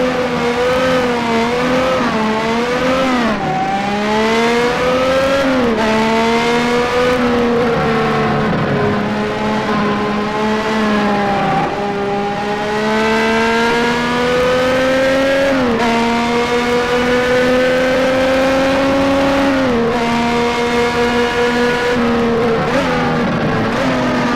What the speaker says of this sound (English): Jules Villeneuve, Ferrari 1979, a 3112 T4. Sounds more Ferrari-ish. Let's give it a couple of laps